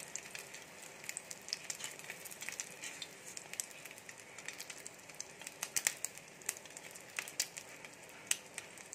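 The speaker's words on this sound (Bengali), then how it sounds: "গ্যাসের ফ্লেমটা একেবারেই লো রেখেছি, রেখে আস্তে আস্তে ভেজে নেব।" Bread with a filling fries slowly in a pan over a very low gas flame, giving a soft, uneven crackle and faint spitting pops at close range, with no voices.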